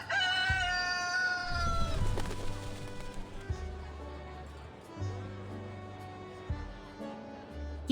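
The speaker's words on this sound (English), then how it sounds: "This is Amu, my white rooster." A white rooster crows in the game Reverse: 1999, with a loud descending cock-a-doodle-doo up front, followed by soft clucks over a low rhythmic musical backdrop.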